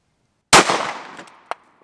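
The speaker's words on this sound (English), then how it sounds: "let's see what our 45 does. All right, 45 ACP." A .45 ACP handgun fires a single loud, sharp shot into wooden boards, with a short ringing decay, followed by a small clink a second later, outdoors and close.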